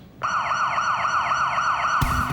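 A loud UK police siren switches on abruptly and wails with a rapid, rising-and-falling warble for about two seconds before cutting off, close and piercing.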